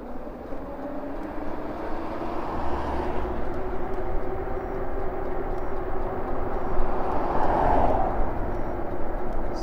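A Himiway Escape moped-style e-bike climbs a hill on throttle alone, giving a steady low motor hum with wind and road rumble that grows slightly louder toward the end, with no talk.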